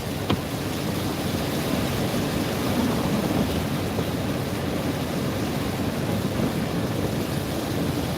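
Steady roaring wind and rain, a dense, unbroken wash of noise with a low rumble underneath, loud and constant throughout.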